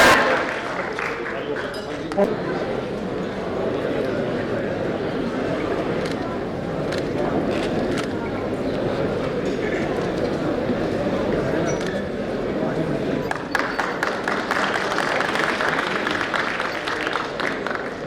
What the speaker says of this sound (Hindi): तो कोई हाथ ऊपर मारने सारे बड़े जोरदार तालियां बजाओ